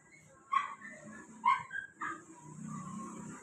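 A dog gives a few short yips and whimpery barks, close by, with quiet background noise between them.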